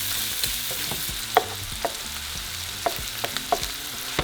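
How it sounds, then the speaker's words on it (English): Onion cooking in a pan for frijoles charros, with a soft, steady sizzle and a series of distinct knocks and scrapes from a spoon moving the onion around. "we're going to cook the onion for a couple minutes"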